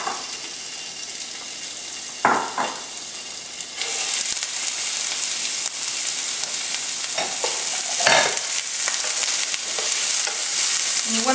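Chopped onion and bacon fry in extra virgin olive oil, a continuous close sizzle that swells louder partway through, broken by a few scraping stirs of a utensil against the pan.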